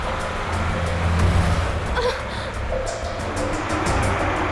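Steady road rumble of a car driving, a continuous low engine and tyre drone that stays fairly even throughout with faint clatter on top and no clear talk.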